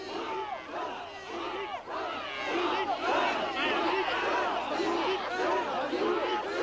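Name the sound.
festival crowd filling the streets in Japan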